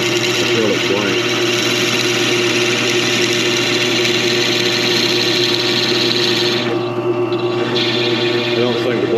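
Drill bit boring into an acrylic pen blank for a slimline pen kit, a steady loud grinding whir that runs without a break, with a short dip in pitch and texture near the end.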